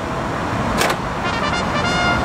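Power side steps on a Mercedes-Benz G-Class deploying automatically as a door opens, giving a short mechanical whir and clunk over steady background noise, with no talking.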